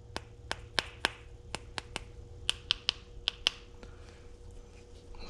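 A dozen or so sharp, bright metallic taps on a Switch Pros 9100 switch panel ring out in an uneven rhythm, close and crisp, over a quiet low hum.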